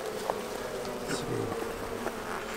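Honeybees in a hobby beekeeper's open hive buzz close and continuously, with a few louder passes as individual bees fly near.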